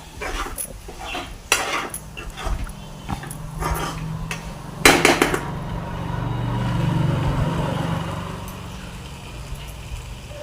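Cooked rice tipped into a hot, oiled pan for egg fried rice: a run of clattering scrapes and knocks, then a louder sustained sizzle and stirring rustle, close and with no talking.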